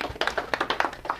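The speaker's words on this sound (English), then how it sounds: "Give her a big round of applause." An audience applauds at a live NLP lecture, with quick bursts of hand claps that rise and fall in an uneven patter, fairly close and clear, with no talk over them.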